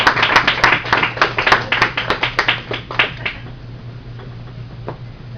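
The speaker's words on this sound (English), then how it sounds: "Let's give him another round of applause." Audience applause for Thomas at a party, a burst of sharp, distinct hand claps in quick succession that thins out and fades to scattered claps and room noise after about three seconds.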